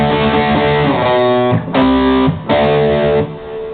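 Electric guitar power chords driven through a Boss Metal Zone MT-2 distortion pedal with a touch of reverb, loud, thick, sustained chords that ring out and change twice with short breaks between them.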